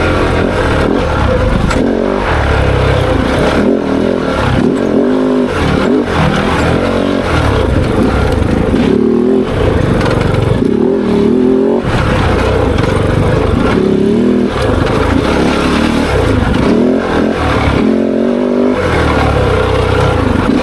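A Kove 450 Rally motorcycle blasts through a series of dirt whoops and small jumps, its engine revving up and down continuously and loud, with suspension clatter and wind rush throughout.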